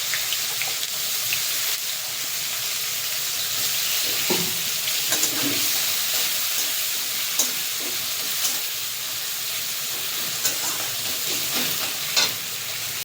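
Whole garam masala and chopped onions fry in hot oil, a continuous bright sizzle with occasional stirring scrapes and small pops, close and steady throughout without speech.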